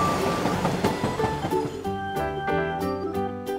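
Toy train sounds from a kids' train-building app: a rhythmic clickety-clack of wheels on rails, loud and up close, gives way to steady tonal notes near the end.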